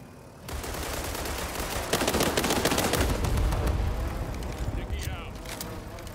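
Rapid gunfire bursts and automatic weapon fire in the video game World War 3, a dense, loud, continuous clatter of shots and impacts that swells midway and stays close throughout, with no clear talking.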